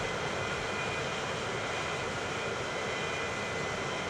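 Steady broadband roar of an airplane flying in the Transport Fever 2 video game, a constant unbroken engine drone at moderate level with no talk over it.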